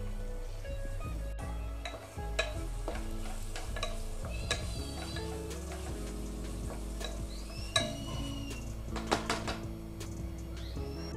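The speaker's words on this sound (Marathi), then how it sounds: "तो आपण तवा मसाल्यामध्ये टाकूया" Green peas go into a sizzling tawa masala in a pan for matar bhaat, with steady frying sizzle and stirring scrapes and light clinks of a spoon against the pan throughout.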